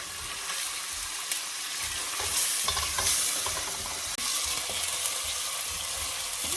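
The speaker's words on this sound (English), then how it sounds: "after the oil has heated, I put my onions. And you have to cook the onions until they brown" Onions frying in heated oil for pilau, a steady close sizzle broken by the scrape and clatter of stirring throughout, with no voices.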